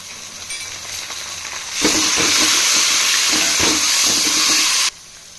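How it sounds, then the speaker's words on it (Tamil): Onions browning in a pan for beef biryani give a close, steady sizzle with stirring scrapes and clatter, the hiss rising sharply partway through and then dropping away near the end. "இப்போது வெங்காயம் நல்லா வதங்கி வந்திருக்கு, ப்ரௌனாக இருக்குது."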